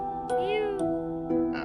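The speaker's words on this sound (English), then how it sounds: "By the way, if you hear cat noises in the background, don't worry." Cats meow in the Monster Hunter game, sounding in three or four short, clear, rising and falling calls close by, with a faint hum underneath and no talk.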